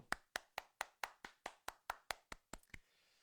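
About a dozen sharp, evenly spaced claps ring out in a quiet room during a Korean Sunday live church broadcast, then stop abruptly.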